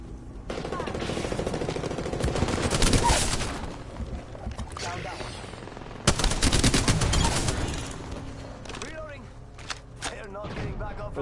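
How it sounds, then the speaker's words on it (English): Gunfire in an Apex Legends match: bursts of rapid automatic shots, a long volley early and another sharp salvo midway, with thuds and impacts, all under a player talking over the action. "The enemies are shooting at me."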